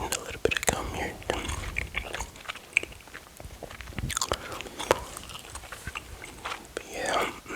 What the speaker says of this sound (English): I'm eating a little bit of gum here.